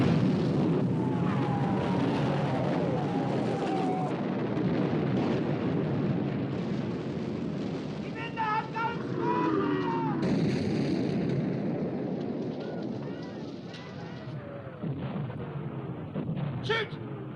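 Heavy naval gunfire and explosions rumble from a warship battle in the 1960 film Sink the Bismarck, a continuous dense roar of booms and blasts with shouted voices cutting through the din.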